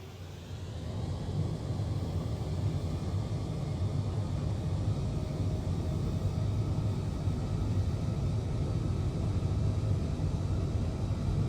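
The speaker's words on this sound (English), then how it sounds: "let's go ahead and take off" Boeing airliner engines at full takeoff throttle in a flight simulator, a steady, loud, continuous broadband roar with low rumble that holds throughout without talk.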